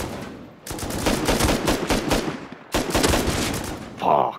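Rapid automatic gunfire from a raid defence in the online survival game Rust comes in two loud, close bursts separated by a brief pause, followed by a short, sharp tone at the end.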